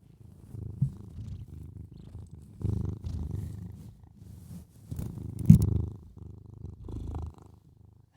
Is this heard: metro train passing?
no